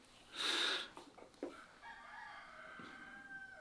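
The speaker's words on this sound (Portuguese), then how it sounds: "Até meu galo tá cantando, não repara não." A rooster crows once, fairly close and clear, its call rising and then stretching into a long drawn-out tail against a faint steady background hum.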